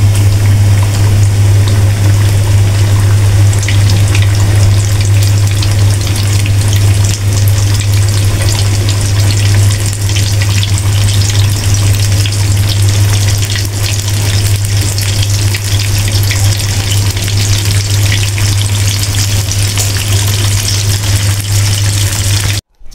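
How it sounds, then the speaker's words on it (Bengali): Chicken fry pieces sizzle steadily in hot oil, a loud, continuous crackling and hiss close by that holds throughout with no talking. "চিকেন ফ্রাইগুলোকে ভেজে নিব।"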